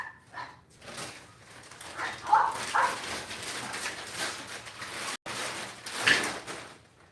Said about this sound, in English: my dog's out there fighting